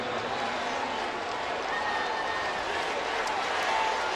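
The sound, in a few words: football stadium crowd cheering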